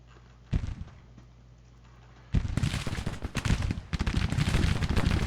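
Civil War battle gunfire and artillery in a strategy game: after a quiet hum, a sharp report, then a dense, continuous roll of musketry and cannon booms that grows louder and busier.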